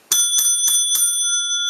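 A bicycle-style bell rings four times in a steady rhythm, each ding bright and close, the last one left to ring out; used as a rating sound effect for a Kashi Tuscan Bake product review, with no talking.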